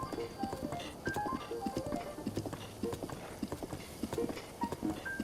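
Horse hooves clip-clop steadily on a road in the Zelda: Breath of the Wild video game, a quick even trot with light gear and tack clinks, while someone talks over it.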